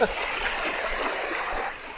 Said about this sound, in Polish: są tak fale olbrzymie, że masakra